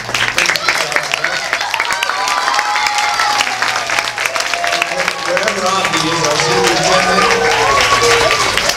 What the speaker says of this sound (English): I'd like both of them to stand up right now so that we can applaud them.